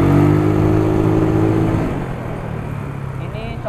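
Yamaha Mio 130cc motorcycle engine revving hard toward high RPM during a test ride, a loud steady mid-pitched engine drone that eases slightly after the opening seconds, with wind noise throughout.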